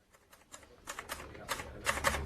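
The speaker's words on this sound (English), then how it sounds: "He was typing out his report." A typewriter clacks out a report in irregular bursts of keystrokes, quiet and somewhat distant, growing slightly busier toward the end.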